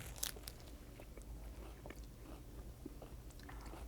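Someone bites into crunchy food and keeps chewing, giving sharp close crackles followed by a run of quieter crunches and chews, with no talking.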